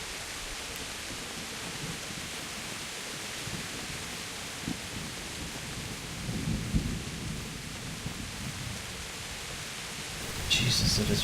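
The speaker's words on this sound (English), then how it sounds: "it is really pouring rain" Steady broadband rain pours in a medieval combat video game, with low rumbles of thunder swelling midway and again near the end, continuous and enveloping with no talk.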